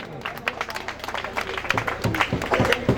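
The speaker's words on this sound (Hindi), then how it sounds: "जोरदार ताली बजाइए आप लोग।" Audience clapping at a prize distribution ceremony in Harpur Chhatwan Bazar: a dense patter of many hands that swells slightly toward the end, with a voice speaking faintly underneath.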